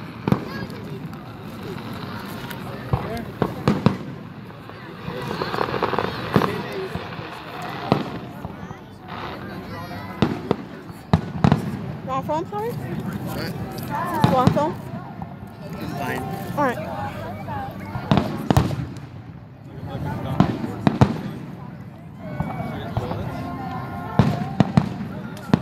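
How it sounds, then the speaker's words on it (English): Fireworks pop and crackle in a rapid, irregular barrage of sharp bursts, with people talking and chatting through the noise. "Do you like fireworks?"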